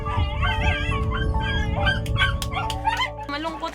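Several dogs barking and whimpering close by, with yips and high whines overlapping in a busy, excited chorus.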